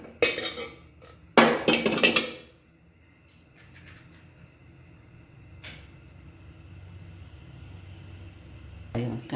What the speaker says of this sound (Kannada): ಒಂದು ಪಾತ್ರೆ ತೊಗೊಂಡಿದ್ದೀನಿ.